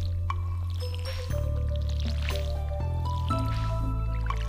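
Flowers being watered in the Stardew Valley video game, with short splashing drips and squishy pours repeating a few times over steady background game music and no talk.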